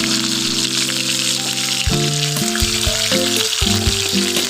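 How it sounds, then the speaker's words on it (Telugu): Onions and green chillies sizzle steadily in hot oil, a close, bright crackling fry, while a sustained musical tone plays underneath. "ఇప్పుడు ఈ ఆయిల్లోకి ఆనియన్స్ యాడ్ చేయాలి."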